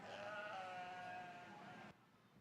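A yearling ewe bleats in a youth sheep show ring, one drawn-out, wavering call lasting about two seconds, fairly faint and heard on its own before cutting off.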